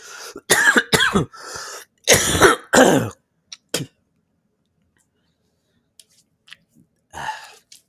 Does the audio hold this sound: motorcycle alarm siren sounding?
no